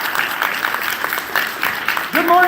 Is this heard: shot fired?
no